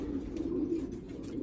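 A racing pigeon cock, a 2018 bird, gives soft, continuous low cooing up close, a steady throaty purr with small rustles above it.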